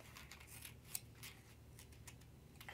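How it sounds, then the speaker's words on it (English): Scissors snip and trim excess paper from a magazine page, quiet crisp cuts and rustles repeating irregularly close by, with no voices. "take my scissors and trim off all the excess magazine"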